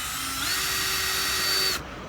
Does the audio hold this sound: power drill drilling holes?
yes